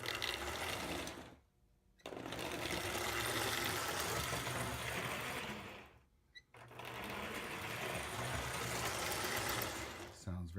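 A Marx O27 999 toy train locomotive motor runs on the bench with a fast, buzzing mechanical whir and gear rattle, close and steady, stopping briefly twice before starting up again.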